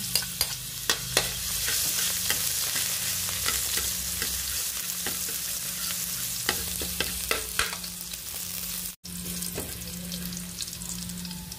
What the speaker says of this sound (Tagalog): Igisa ko na ang bawang.